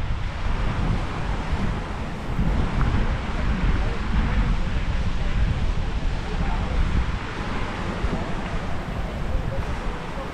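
Steady, loud wind buffeting the microphone at the seashore near Station 1, Boracay, a kiteboarding spot, with a constant roar of surf underneath and no clear voices.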